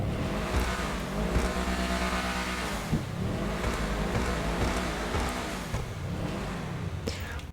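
In GTA Online, the Obey Tailgater S, a four-wheel-drive car, revs with a steady, loud, droning engine note that rises and falls in pitch, heard close up and continuously.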